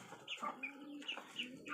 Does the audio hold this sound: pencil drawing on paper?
no